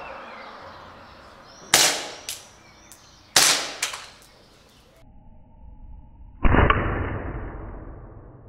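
Air gun shots firing aluminum pellets at a Nokia phone in a drop and crash test: several sharp, loud cracks in close succession, then a lower thump with a fading ring, with no talking.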